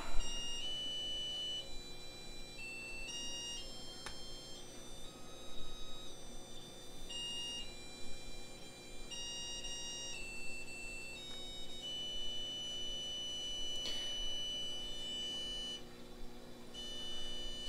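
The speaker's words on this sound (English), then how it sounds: "Just gotta clear that alarm here. Had a little overflow in the skimmer cup." An aquarium pump controller's alarm sounding after an overflow in the protein skimmer cup, a series of thin, high electronic beeps repeating over a low steady hum.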